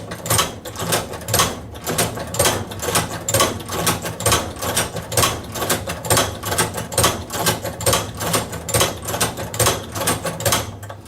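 A manual leather sewing machine stitches as its handle is pulled again and again, a steady rhythmic series of close mechanical clacks and thumps, roughly two per second.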